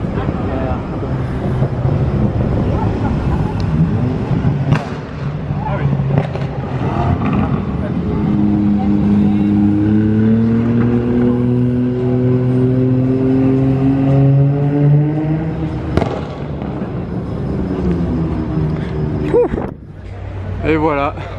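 A Nissan GT-R revs on a busy street outside a casino square, its engine note rising and falling through several long climbing pulls, fairly close, with wind buffeting and someone talking over it.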